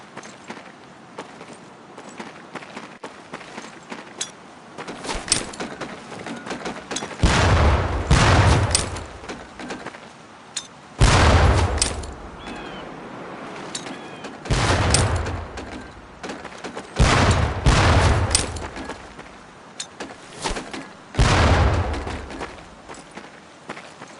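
Training grenade explosions in the video game Medal of Honor: Pacific Assault, five heavy booming blasts spaced a few seconds apart over steady background gunfire and footsteps, no talking.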